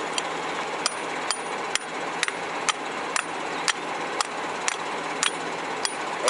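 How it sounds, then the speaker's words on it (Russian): A small hammer taps metal in sharp, evenly spaced strikes, about one every half second, ringing brightly over a steady background hiss, during repair work on a Bednar compactor. "Молоточек поменьше"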